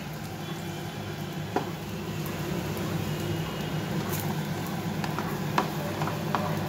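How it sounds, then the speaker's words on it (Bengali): Lentil dumplings (dal bori) frying in plenty of hot oil, a constant soft sizzle and bubbling at close range with a few small crackles, alone without speech. "আর ডালের বড়িগুলো একটু ভেজে নিচ্ছি"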